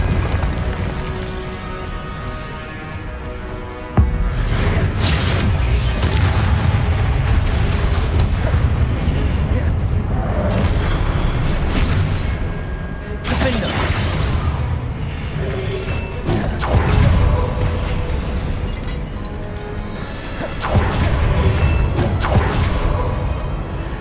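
Spell-combat effects from Hogwarts Legacy during a duel trial: continuous loud magical whooshes, booming impacts and crashing bursts, with a sharp hit near the start and dense layered blasts throughout, with no speech.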